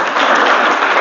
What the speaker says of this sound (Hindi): ताली बजाइए इनके लिए भाई